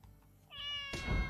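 A cat character in the video game The Good Life lets out a drawn-out meow mid-attack, followed by a heavy thudding hit, close and alone.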